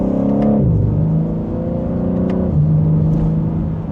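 A 2025 BMW M3 Competition pulls from second gear in a mild acceleration, engine tone climbing steadily with an audible upshift near the middle before rising again, loud and close throughout.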